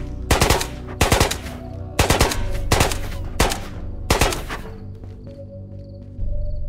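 Golden SKS rifle firing in the video game Ghosts of Tabor: six loud, close gunshot bursts in quick irregular succession, each sharp crack trailing into brief reverb, followed by quieter ambient game noise.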